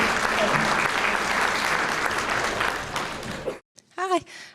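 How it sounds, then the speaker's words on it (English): An audience at a multiple sclerosis talk applauds, a dense steady burst of clapping that fades out near the end, followed by a brief voice. "So let's give her a round of applause and thank her for coming."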